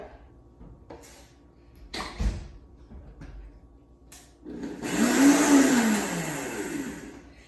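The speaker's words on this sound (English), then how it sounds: "That's as much as I'm going to grind mine. This then is a fairly coarse flour" Oats ground into coarse flour in a blender: a few soft knocks and handling thumps, then a loud, close motor roar that spins up in pitch and holds steady to the end.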